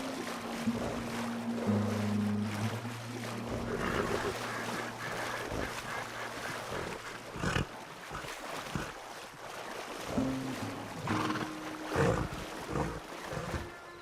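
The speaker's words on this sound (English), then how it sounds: "Your horse can swim." A horse swims through water in Red Dead Redemption 2, with steady splashing and sloshing, a low droning tone underneath and occasional louder surges, no talking.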